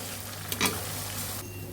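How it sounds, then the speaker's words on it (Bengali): Ground mustard paste stirred and frying in oil in a pan, a steady low sizzle with one brief scraping stir near the middle, close and fairly quiet, no voices. "এখন মশলাগুলো কষিয়ে নিব"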